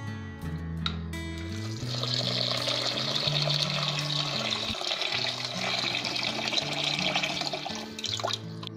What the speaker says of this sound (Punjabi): ਮੈਂ ਸਾਰਾ ਪਾਣੀ ਕੱਢ ਕੇ ਇਸ ਦੇ ਵਿੱਚ ਠੰਡਾ ਪਾਣੀ ਪਾ ਕੇ ਰੱਖ ਲਿਆ